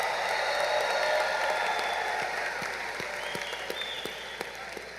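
An audience at a high school graduation ceremony applauds the graduating seniors, a broad wash of clapping that is steady at first and then gradually thins, with scattered individual claps near the end.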